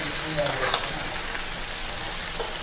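Chicken pieces fry with spices in a village-style kosha curry, a loud close sizzle filling the clip while a voice talks faintly underneath.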